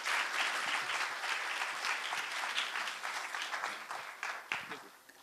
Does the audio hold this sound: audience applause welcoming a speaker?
yes